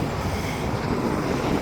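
A SkyTrain Mark 3 train rushes past near an overpass, a steady, loud, broadband rumble and roar filling the whole moment with no letup and no talking.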